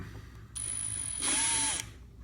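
A power drill bores a hole in a part for a Losi 5ive-T RC car, its motor whining up for about a second and a half before stopping, close and clear.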